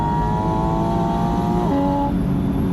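Porsche Spyder RS engine revving hard toward 8,500 RPM, a loud, rising mechanical wail that climbs steadily, then drops pitch briefly near the end as the revs shift, heard up close without talk.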